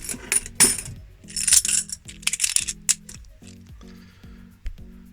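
Handfuls of pennies clatter and jingle as they are sorted and dropped, with repeated sharp metallic clinks near and moderately loud, some scattered and others in quick bursts, alone without talk.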